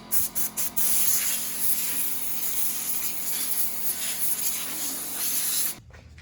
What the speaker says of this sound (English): blow that dust out of there